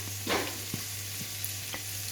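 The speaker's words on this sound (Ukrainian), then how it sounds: "у сковорідку додаємо морку і додаємо цибулю" Carrot and onion fry in a pan over low heat, in the fat left from browning meat sausages. A soft, steady sizzle runs throughout, broken by a few quiet stirring scrapes and clicks close by, with no talking.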